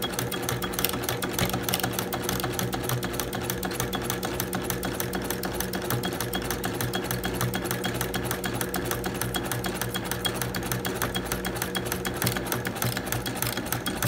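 A sewing machine fitted with a walking foot hums continuously and evenly, close by, as it quilts curved lines through fabric layers.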